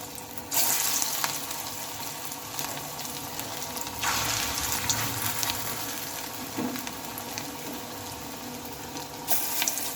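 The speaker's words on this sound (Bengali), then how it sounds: "ওখান থেকে মিশ্রণ নিয়ে এরকম করে ভেজে নেব গোল গোল করে ভেজে নেব" Round balls of carrot and cabbage batter frying in shallow oil, a continuous loud crackling sizzle close up, swelling as more batter goes in, with no talking.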